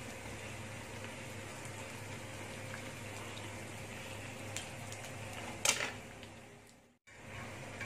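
Sesame-coated bolang baling dough frying in a pan of hot oil over a high, steady flame, giving a continuous close sizzle and bubbling with a brief louder crackle near the end before a sudden cutoff.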